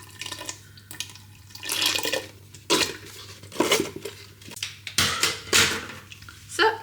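Passata sloshing and glugging in bursts as it is poured into a Ninja Foodi pot over vegetable stock and red wine, with a steady low hum underneath.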